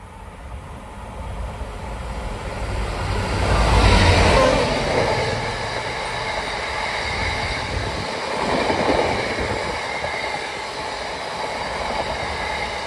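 Train 66721 passing through Harborough station, a broad rumbling roar that swells near the start and again later, loud and steady throughout with no voices.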